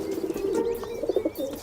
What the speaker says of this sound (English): Feral pigeons are a lot smarter than they may look.